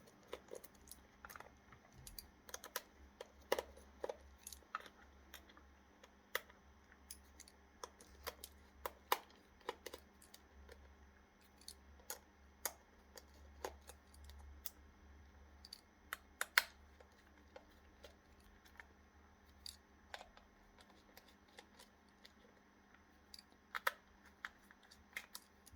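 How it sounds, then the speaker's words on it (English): A Torx T6 screwdriver backs screws out of the rear cover of a Garmin Edge 1000 bike computer, with faint, scattered small ticks and clicks over a quiet, low background hum. "start removing the 8 screws from the back"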